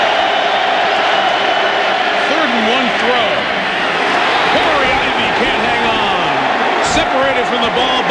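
Steady, loud roar of a football stadium crowd at a 2000 Big East game between Virginia Tech and West Virginia, constant throughout with a commentator talking over it.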